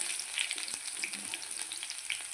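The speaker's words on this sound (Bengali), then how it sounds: "তেল আমার একদম গরম হয়ে গেছে তাই জন্য আগে দিয়ে দেবো হচ্ছে গিয়ে তোমার কালো জিরে শুকনো লঙ্কা রসুন সব তিনটেই একসাথে দিয়ে দিলাম" Black cumin, dried chillies and garlic sizzling together in hot oil in a pan, a steady, close, bright crackle with scattered pops and no voices.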